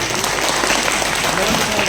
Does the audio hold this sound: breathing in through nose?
no